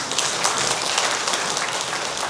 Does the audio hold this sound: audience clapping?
yes